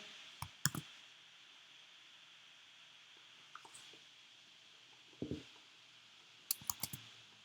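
A computer mouse clicks softly in a quiet room, a few sharp, faint clicks arriving in small clusters with pauses between them.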